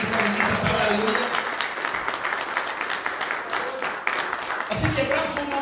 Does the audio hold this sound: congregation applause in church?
yes